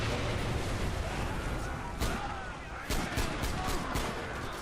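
Gunfire in the video game Far Cry 4 crackles in dense bursts of sharp shots over a loud, busy game soundscape, with excited players talking over it.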